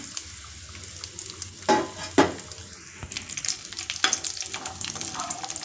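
Raisins, cashews and almonds frying in ghee for carrot and semiya payasam, a steady close sizzle with a few louder stirring scrapes and bursts partway through, no talking.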